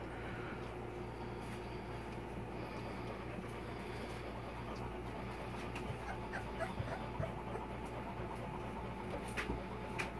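A Boxer puppy pants softly indoors, with faint whimpers, over a constant low mechanical hum; the sounds stay quiet and close, with no talking.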